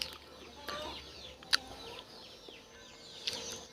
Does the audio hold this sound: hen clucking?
yes